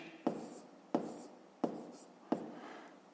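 Pen writing a number by hand on paper in a maths lesson: four short, evenly spaced scratching strokes, close and fairly quiet, with no talk.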